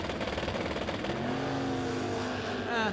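A Vega wagon drag race car at a spring drag-racing event idles roughly, then its engine swells into a rising rev and a sharp climbing burst at the end, loud and close.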